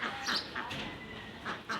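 Ducks quacking in short nasal bursts while feeding on a quiet town morning, several calls spaced across the moment, moderately near over a soft background hum.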